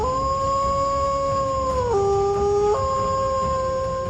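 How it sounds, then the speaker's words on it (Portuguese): A werewolf's long, terrible howl rings out, a sustained wavering tone that dips and rises before holding steady, loud and close against a low rumbling background with no talk. "deu ainda um terrível e longo uivo"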